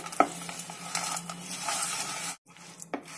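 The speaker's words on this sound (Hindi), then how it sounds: "अब इसे जल्दी से मिक्स करना है।" Cashews, almonds, pistachios, walnuts, coconut and poppy seeds are briskly stirred in a pan for chikki, a busy scraping and rustling with a sharp knock at the start and a brief pause near the end.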